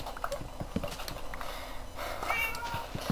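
A cat meows in short calls over faint background noise, with a couple of higher-pitched meows standing out near the end of the stretch.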